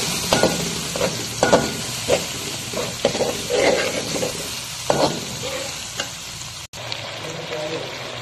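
Minced meat (keema) frying in a pan, a loud, steady sizzle and hiss with repeated scraping strokes of a spatula in an uneven rhythm, briefly cut out near the end, with no talk.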